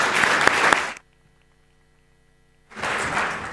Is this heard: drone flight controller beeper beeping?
no